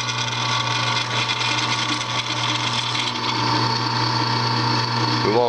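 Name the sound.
drill press drilling into steel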